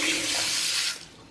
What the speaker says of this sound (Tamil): ஸோ தண்ணி கூட பார்த்திங்கன்னா இந்த டெப்த் இருக்கிறதுனால தண்ணி மேலே சிந்தாது.